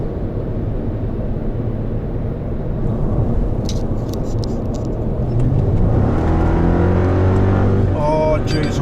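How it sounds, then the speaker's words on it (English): A V8 engine drones loudly at a Nissan Nitto GTR festival drag racing event, then climbs in pitch as it revs up and accelerates near the end, mixed with crowd noise. "Don't you just love the sound of that roar of the V8 engine?"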